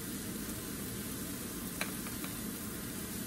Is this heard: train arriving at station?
no